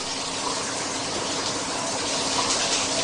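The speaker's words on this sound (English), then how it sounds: "The residues on the back are removed with a sponge before the foil is rinsed again." Running water rinses a silver-plated foil after it has been cleaned with a sponge, producing a loud, continuous gushing spray with no pauses and no voices.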